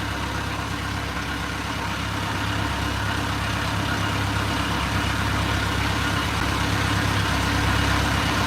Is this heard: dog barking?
no